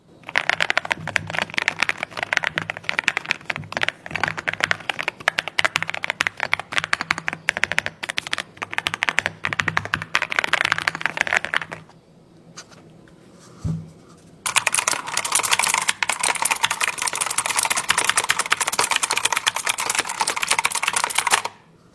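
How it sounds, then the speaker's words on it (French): Rapid, continuous clacking of Akko MU01 mechanical keyboard keys being typed on up close, pausing briefly partway through before the brisk typing resumes. "on a un bruit de touche qui est juste parfait"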